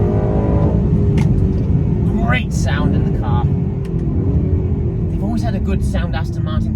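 A 2024 Aston Martin DB12 engine growls deep and steady while driving, a continuous low rumble from start to finish with someone talking over it throughout.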